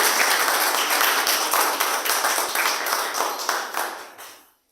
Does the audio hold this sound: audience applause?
yes